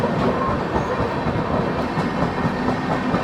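Kongu Express running past Rani Kamlapati station, a steady broadband rumble of wheels on rail with faint clickety-clack rhythm, continuous and close throughout.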